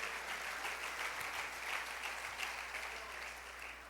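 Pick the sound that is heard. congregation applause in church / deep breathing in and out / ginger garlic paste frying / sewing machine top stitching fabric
congregation applause in church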